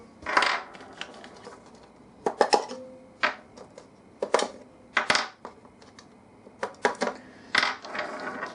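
Rechargeable Duracell AA batteries pried out of the battery compartment of a WL Toys V950 RC helicopter transmitter, a run of sharp plastic clicks and rattling knocks spaced irregularly, close and fairly quiet.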